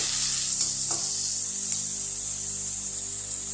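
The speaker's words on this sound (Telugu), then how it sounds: "ఆయిల్ వేడైన తర్వాత సన్నగా కట్ చేసుకున్న ఆనియన్స్ వేసుకోవాలి. ఒక 2 మినిట్స్ ఫ్రై చేసుకుందాం." Thinly sliced onions frying in hot oil, a steady bright sizzle holding evenly throughout with a faint tap or two of a utensil early on, no voices.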